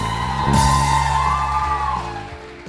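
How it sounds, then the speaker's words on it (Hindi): Studio audience on a Pakistani TV morning show claps and cheers loudly for a guest named Amber, with whoops rising over steady clapping across the whole stretch before fading slightly at the end. "बहुत सारी तालियां अंबर के लिए।"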